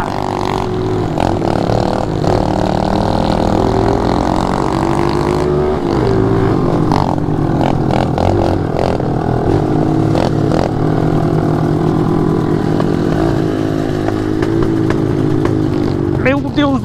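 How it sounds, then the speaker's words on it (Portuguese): A mini motorbike is pushed hard on a muddy night trail, its small engine revving loud and rough with rising and falling pitch and rattling clatter, while voices are heard over it. "Vou acelerar, pesado."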